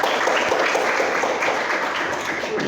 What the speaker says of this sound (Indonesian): Berikan aplaus dulu kepada teman kita.